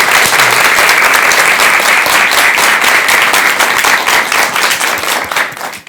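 Loud, sustained applause from a lecture audience welcoming a Buddhist monk's talk on Buddhist ritual and music, dense clapping throughout that tapers off at the very end.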